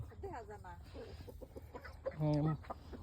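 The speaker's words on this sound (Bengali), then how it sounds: "মুরগি" Chickens cluck close by at an outdoor char, a few short clucks and calls mixed with background voices, one louder squawk near the end.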